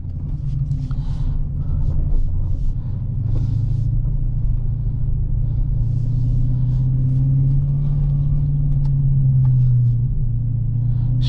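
A 2023 Dodge Challenger Scat Pack Widebody cruising gently on a snowy road, its engine a low steady rumble heard from inside the cabin, with no talking.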